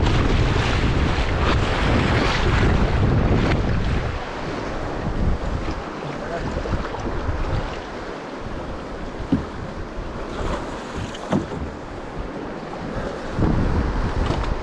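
Waves wash against a windy shore, with steady surf and strong wind buffeting the microphone throughout, rising and falling in gusts.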